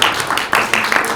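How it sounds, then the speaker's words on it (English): Audience applause for guests at the Romford Film Festival, a short burst of dense clapping that swells and pulses in waves across the room. "Have a round of applause, please, for these people"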